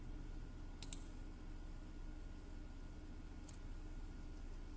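A couple of sharp computer mouse clicks, one early and one a few seconds later, stand out against a low steady hum from a Windows 10 machine.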